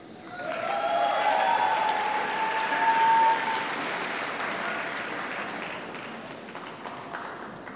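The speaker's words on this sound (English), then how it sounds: "Now let's give them a round of applause" A crowd at a school graduation ceremony gives the graduates a long round of applause, swelling quickly then slowly tapering, heard at moderate distance in a large hall with faint cheers mixed in.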